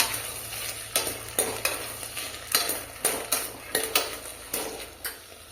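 Avarekalu beans frying in plain oil on a low flame, a soft sizzle broken by regular spatula scrapes and clinks against the pan, steady and close.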